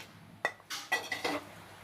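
A metal cooking pot set down on a lit stove before oil goes in for a spicy chicken curry, a few light clanks and clinks close by, fairly quiet with no talking.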